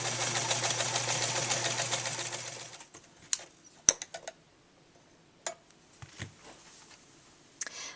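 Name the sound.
sewing machine stitching quilt pillow pieces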